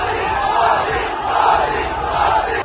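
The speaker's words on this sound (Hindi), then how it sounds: "इसके बाद लोगों ने मोदी मोदी और जय श्री राम के नारे लगाकर उनका जोरदार स्वागत किया" A large crowd at a metro station chants Modi Modi and Jai Shri Ram slogans, loud rhythmic massed voices rising and falling in repeated waves.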